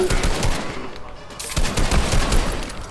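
Video game gunfire crackles in rapid bursts of automatic shots, loud and close, with a short lull in the middle before the firing resumes.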